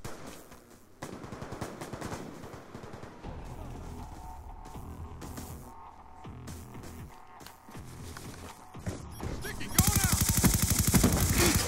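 Rapid submachine gun bursts ring out from Call of Duty: Black Ops 2 gameplay in several rattling volleys with short pauses between them, followed by a harsh loud crash of noise at the end.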